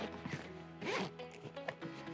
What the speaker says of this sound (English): It's got the nice zippers.